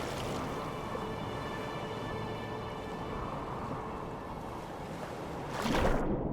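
Capsized ship sinking in waves in the video game Stormworks: a steady, dense wash of water and surf rumble that surges louder near the end, with no talking.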